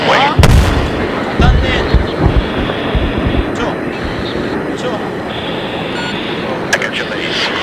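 Bombs exploding in the Battlefield 3 video game make a loud, continuous barrage of booming blasts over a steady aircraft engine roar, with the heaviest hits near the start.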